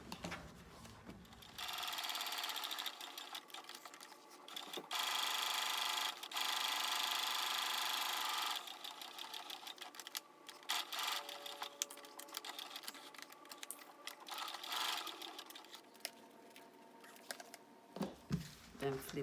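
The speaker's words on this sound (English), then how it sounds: "So I'll take it to my sewing machine and just sew all around." A sewing machine stitches around the sides of a fabric envelope pouch with a steady mechanical whir in several long runs, separated by short pauses and handling clatter.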